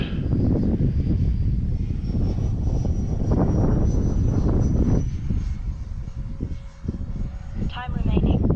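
A Freewing JAS-39 Gripen 80mm electric ducted-fan RC jet whines overhead on a landing approach to the runway, a steady rushing roar, with someone talking over it.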